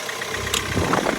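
A Hyundai ix diesel (CRDi) engine idles steadily up close, a low continuous rumble with a faint mechanical chatter and no voices.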